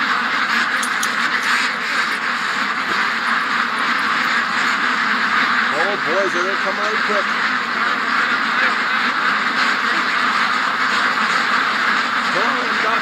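Ducks quacking in a group outdoors near slippery mud, a few short nasal calls rising over steady wind and background noise, while a person talks close by.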